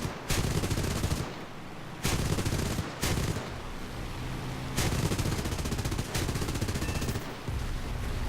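Rapid bursts of aircraft cannon fire in War Thunder rattle in several long volleys separated by brief pauses, loud and continuous, with a droning fighter engine beneath.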